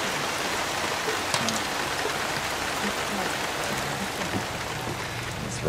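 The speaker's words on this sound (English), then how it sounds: "it's raining." Steady rain falls outdoors around an outdoor cooking stove and pot, a dense continuous hiss of drops on surfaces, close and even throughout with no clear talking.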